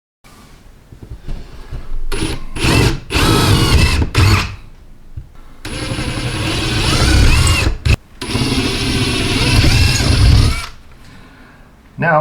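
A power drill whirs in short bursts, then runs in two long sustained stretches as it bores through a wall to the outside, loud and close.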